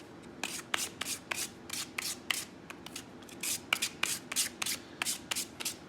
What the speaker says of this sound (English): you can either do it by hand like this, sanding them on the block